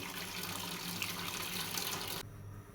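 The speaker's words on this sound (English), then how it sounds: "This is my pot on fire, adding water so that we can prepare our delicious" Water pours steadily into a cooking pot set on the fire while preparing ato mboro, a continuous splashing rush that stops abruptly near the end, leaving only faint background noise.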